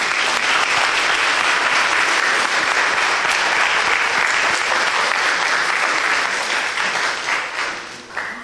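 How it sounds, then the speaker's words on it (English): A church congregation applauds the choir at an Easter Sunday service, loud dense clapping filling the room steadily for several seconds before tapering off near the end. "Shall we give them a round of applause,"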